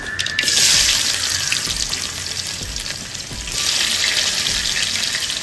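Onions go into hot oil with popped mustard seeds while egg Manchurian is being made. A loud, continuous, hissing sizzle runs throughout, swelling slightly at the start and again toward the end.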